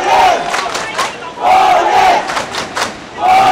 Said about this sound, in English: You can see where all the pressure is at with the crowd getting into it now.